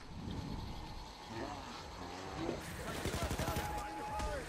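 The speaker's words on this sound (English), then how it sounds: "There's still a lot of them just shooting us." Gunfire from police units in the video game PAYDAY 2, a steady busy mix of rapid shots and impacts at moderate level, intensifying in the final seconds with quick repeated bursts.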